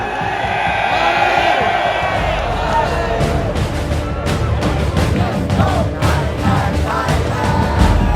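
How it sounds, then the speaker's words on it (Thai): A large crowd of Thai football fans sings and cheers without pause inside a packed stadium during the AFF 2022 final, a loud, dense roar of voices with occasional whoops rising above it. "กองเชียร์โซนเอ็นร้องเพลงส่งเสียงเชียร์ตลอด 90 นาที"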